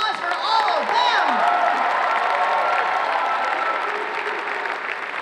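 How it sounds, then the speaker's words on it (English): A convention crowd applauds the group entrants at the Planet Comicon 2019 cosplay contest, sustained clapping mixed with a few cheers and whoops, loud and even throughout. "A round of applause for all of them."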